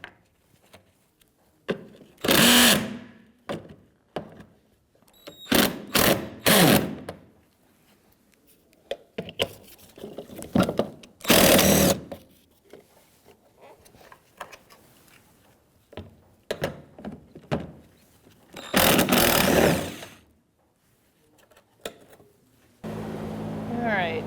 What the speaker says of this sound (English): using a 10mm socket, we're going to take off our 3 bolts for the filler neck